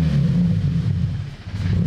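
The turbo Subaru BRZ engine rumbles low and close as the throttle is pressed, a brief uneven rev that wavers and sags rather than climbing cleanly.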